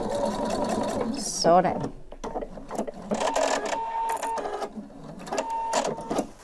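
Sewing machine stitching around the seam of a homemade cushion, close rapid mechanical whirring in short bursts separated by pauses, with a person speaking between the runs.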